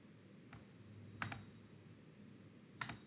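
Computer keyboard keys are pressed for Ctrl Shift Enter in Excel: a few faint, close clicks, one soft tap followed by two small clustered key strikes, over quiet room hum.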